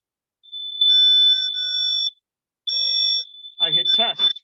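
A household smoke detector set off with its test button emits two loud, piercing, steady high-pitched beeps, the first long and the second shorter, close by in a quiet room, and then a person starts speaking.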